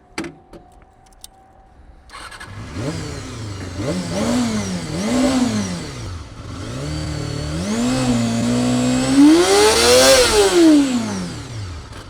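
A Walmart motorcycle engine revs and pulls through the gears as it accelerates, pitch climbing in several rising sweeps that peak loud near the end, after a quiet start with a few clicks.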